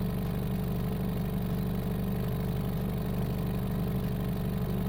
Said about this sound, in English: So the car right now is idling.